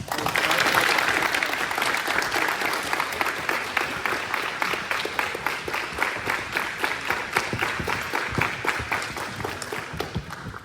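Steady audience applause for cadets receiving the Marine Corps League Community Service Ribbon, a sustained dense patter of many hands clapping that continues at even strength throughout.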